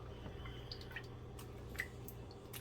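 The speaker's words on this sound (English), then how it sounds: "I'm just squeezing any of the excess liquid out of it." Buttermilk drips from homemade butter squeezed by hand, a few faint, scattered small drips and soft liquid plinks over a quiet background.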